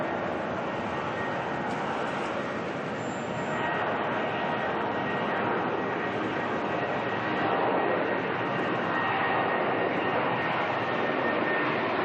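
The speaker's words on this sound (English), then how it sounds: "Next ASL freighter here, making its way off to Sydney." An ASL Airlines freighter jet departs the airport at night, a steady broad engine roar heard from a distance, holding at an even level and swelling slightly over about twelve seconds.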